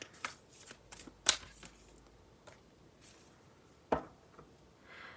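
A deck of Kali oracle cards being shuffled up close, with a few sharp riffling bursts and soft card slides between them in a quiet room.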